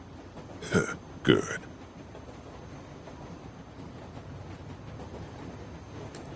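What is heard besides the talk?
train rolling along the tracks, from video game The Walking Dead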